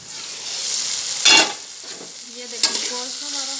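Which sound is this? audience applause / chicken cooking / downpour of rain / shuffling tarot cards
chicken cooking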